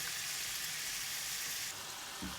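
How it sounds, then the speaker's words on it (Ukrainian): Chopped onion, carrot and celery fry in oil in a pan for moussaka, giving a steady, close sizzling hiss with no talking. "до нашої цибулі, моркви і салери. І хай воно обсмажиться."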